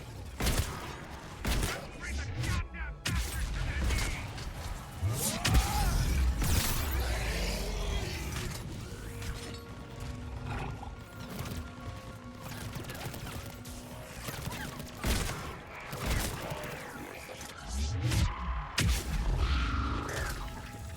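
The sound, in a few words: gunfire in video game Mass Effect 3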